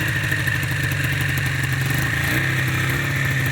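A homemade four-wheeler powered by a snowmobile engine runs loudly while being ridden, a steady buzzing drone with a clear shift in pitch partway through, close and continuous.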